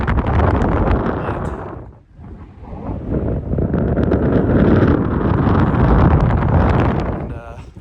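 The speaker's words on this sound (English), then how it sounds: "It is windy" Strong wind roars and buffets the microphone almost continuously at a lookout point above mountain lakes, with a short lull partway through.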